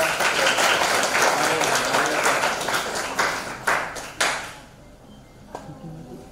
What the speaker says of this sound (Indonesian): Tepuk tangan dong buat Nadira.